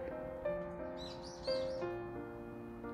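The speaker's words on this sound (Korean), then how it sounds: "자기 그림을 가져왔다고 새들이 노래하는 것 같아요." Birds on a home veranda give a few soft, high chirps and tweets in a short burst. Steady musical tones play underneath and sound louder than the birds.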